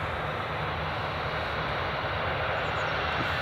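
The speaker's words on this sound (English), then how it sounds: "There's British Airways. It's taxiing along." A British Airways airliner taxis at Edinburgh Airport, its engines giving a steady, even rumble that holds at one level throughout with no voices over it.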